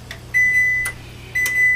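An oven signals that preheating is done with two clear electronic beeps, each about half a second long, close by and distinct over a low steady hum.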